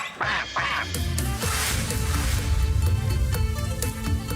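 Ducks quack loudly and repeatedly, a noisy, overlapping chorus of nasal calls that continues without a break.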